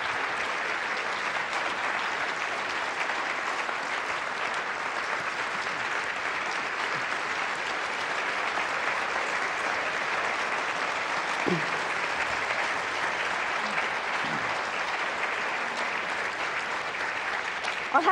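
Sustained applause from a seated audience at a referendum and Voice to Parliament information night, steady and full for the whole stretch, with no voices over it.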